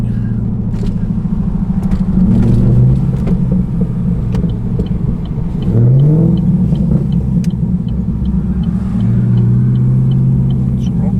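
A cammed 2013 VF SSV Commodore V8 arriving nearby, its lumpy idle rumbling loudly with several quick blips of the throttle, while people talk over it.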